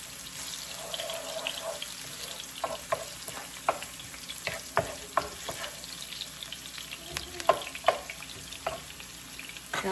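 Sardines sauté in a pan with a soft, steady sizzle, punctuated by scattered clinks and scrapes of stirring, fairly quiet and close with no talking.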